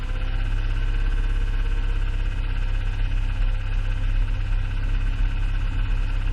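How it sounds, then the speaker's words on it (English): A 2021 Jeep Grand Cherokee engine idles steadily and close up, a rapid faint ticking like lifter tap riding over the low hum and vibration, with no talk. "what sounds to me like a little bit of a lifter tap going on"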